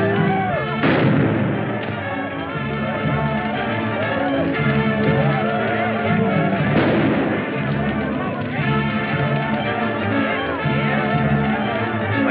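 Dense gunfire and explosive bangs fill a scene from a 1947 jungle adventure film, sharp blasts repeating loudly over a constant roar of battle with music and voices mixed underneath.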